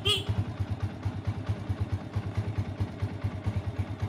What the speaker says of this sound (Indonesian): Dan kita coba nyalakan motor.